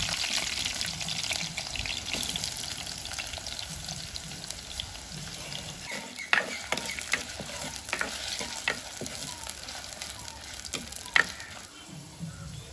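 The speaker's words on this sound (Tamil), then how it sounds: "இப்போ உருளைக்கிழங்கு முதல் வதக்குவோம்." Potatoes fry in coconut oil in a pan for Jaffna-style cooking, a steady close sizzle running throughout with scattered clinks and scraping stirs.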